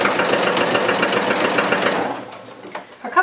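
Sewing machine edge stitching a fabric tote strap, a loud steady rapid mechanical whir for about two seconds, then it slows and stops, leaving a few small clicks and handling sounds.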